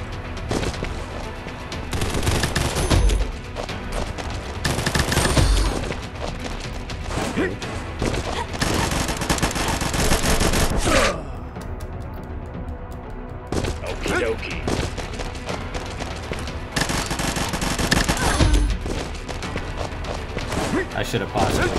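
MP5 submachine gunfire in the Combat Masters video game: repeated loud automatic bursts, several seconds each, broken by a short quiet gap midway, with someone talking over the action.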